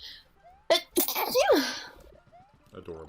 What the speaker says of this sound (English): Alright. I gotta sneeze.